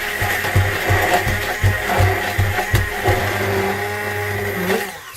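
An electric blender whirs loudly through garlic, salt, sugar and lemon juice, its motor pulsing in short rhythmic surges before settling into a steady grinding drone that cuts off at the very end.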